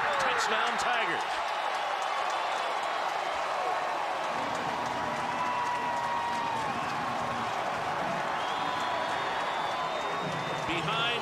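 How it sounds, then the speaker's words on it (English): Stadium crowd roaring and cheering after a Clemson Tigers touchdown on a quarterback sneak in the 1999 game against top-ranked Florida State; dense, sustained crowd noise throughout, with a broadcast announcer talking over it. "this crowd is standing and going a little crazy"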